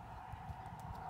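A Pony of America horse walking away, its hooves clip-clopping in a steady, fairly even rhythm over a low outdoor rumble, moderately close and not loud.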